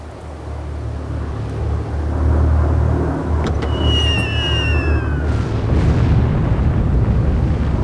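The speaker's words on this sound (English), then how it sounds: "I'm going to use the atomic bomb" An atomic bomb detonates in Civilization V with a deep, sustained rumbling roar that swells and holds, while a few whistling tones streak briefly over the blast midway.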